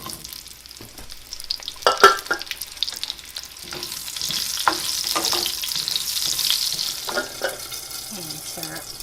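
Pearl onions frying in a pot for beef bourguignon give a steady, moderately loud sizzle across the whole stretch, with scattered clinks and stirring scrapes on top and no talk.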